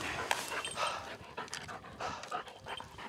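A hunting dog panting close by in quick, rhythmic breaths with a faint whine mixed in, heard alone on a deer hunt in the field.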